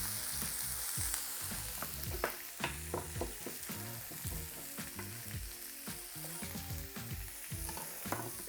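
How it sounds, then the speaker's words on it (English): Onions and peppers sauté in a hot pan for sweet and sour tempeh, giving a continuous soft sizzle broken by scraping stirs and light clatter, close but fairly quiet, with no voices. "Okay, we're going to saute those for a minute or two."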